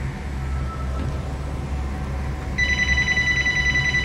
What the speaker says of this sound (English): That would be the phone, but I'm going to ignore it